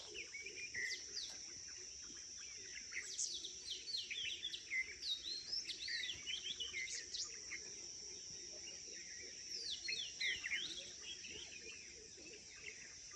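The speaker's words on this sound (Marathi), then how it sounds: "फील करा त्या पक्ष्यांचा आवाज." Birds chirping and singing outdoors in fresh morning air, quick bright calls in bursts over a constant high insect drone, fairly faint and without talk.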